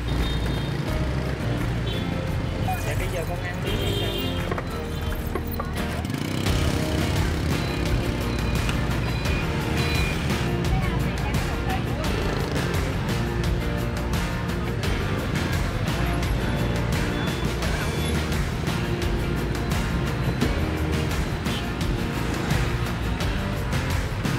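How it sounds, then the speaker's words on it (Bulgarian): Rush-hour street traffic in Ho Chi Minh City, with motorbikes riding even on the sidewalks, forms a constant loud roar of engines and horns that carries on steadily without letup and without speech. "Не само, че трафика и тук е убийствен, но в час пик, както е сега, 7 без 15, има мотори по тротуарите."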